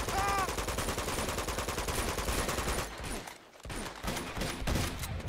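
Rapid automatic gunfire in Uncharted 2: Among Thieves rattles continuously and loudly in dense bursts, pauses briefly, then resumes with more shots.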